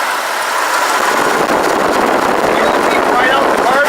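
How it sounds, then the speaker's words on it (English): A 1973 Chevy small-block 350 V8 with a 400 transmission and a slight exhaust leak idles steadily at close range, a continuous low rumble with some brighter noise on top. "Just Chevy status, the small block, the 350, the golden engine."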